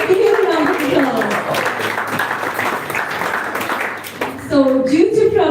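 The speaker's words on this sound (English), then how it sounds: "Let's give him a round of applause" Dense, sustained round of applause from an audience gathered for a devotional talk, steady clapping filling the room for several seconds before a speaker's voice returns at the close.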